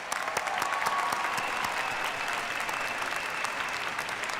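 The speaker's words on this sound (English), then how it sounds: "They too deserve a big round of applause." Sustained, dense applause from a large audience at a Temple University commencement for the Class of 2023, steady clapping filling the hall with no pauses.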